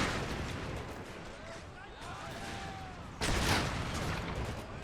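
Artillery booms and musket fire rumble through a battle in the strategy game Empire: Total War, a dense roar of gunfire with a sharp louder burst partway through, some faint voices mixed in.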